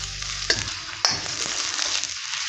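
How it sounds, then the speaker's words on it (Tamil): Ginger garlic paste sautés in a hot pan for chilli chicken gravy, a dense close hiss of frying with a couple of sharp spatula knocks against the pan. "வதங்க விடுவோம்."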